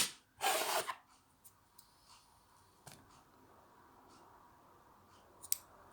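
Scissors snip off excess wool yarn, an angora blend, while crocheting a sunflower motif. One sharp, close cut stands out, followed by faint clicks and light handling sounds in a quiet room.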